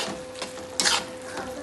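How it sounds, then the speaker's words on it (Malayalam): Chilli powder, turmeric and garam masala being stirred in a hot pan, a brief low sizzle with a couple of quick spoon scrapes and a light clink against the pan, close by. "നന്നായി ഇതൊന്ന് നമുക്ക് ഇളക്കാം"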